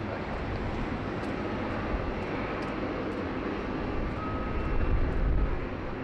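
A Jetstar airliner takes off from Sydney Airport, a steady broadband engine roar at moderate distance that swells slightly near the end, with no voices over it.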